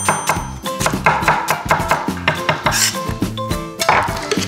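A knife chops celery stalks on a cutting board in a steady series of quick, close, rhythmic taps, with light clinks of kitchenware mixed in.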